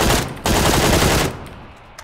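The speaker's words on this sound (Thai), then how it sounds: "มันยิงกันอยู่นี่" Gunfire in a PUBG match, a dense burst of rapid shots that swells loud in the middle and then drops back to quieter firing, with no talking over it.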